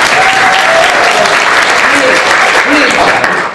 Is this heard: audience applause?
yes